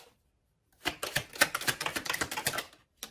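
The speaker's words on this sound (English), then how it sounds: "Give me a few more cards." Playing cards shuffled by hand up close, a quick crisp riffle of clattering cards after a brief silence, then a single snap as one is drawn.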